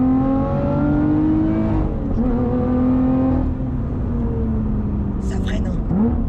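A Lotus Evora GT410 Sport accelerates hard, heard from inside the cabin: a loud, rising engine note climbs through the gears with a shift midway, and voices speak briefly over it.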